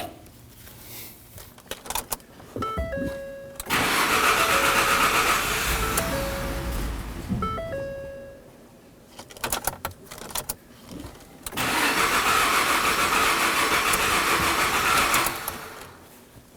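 A 2009–2014 Ford F-150 3.5L V6 with its fuel pump module unplugged cranks, catches and runs roughly for a few seconds, then dies. It is cranked again and runs briefly before stalling. Each run is loud and near, with no talking.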